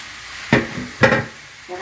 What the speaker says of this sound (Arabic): هنزل بالخلطه في الطاسه